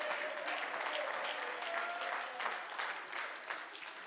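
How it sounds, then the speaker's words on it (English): A church congregation at a Sunday evening service claps their hands in continuous, fairly soft applause, a faint tonal hum sitting underneath the patter. "clap your hands and praise Him tonight"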